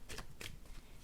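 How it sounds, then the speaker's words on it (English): A deck of tarot cards gets a big shuffle, giving two quick riffling bursts close up and then a brief patter of card noise. There is no talking. "do a nice big shuffle"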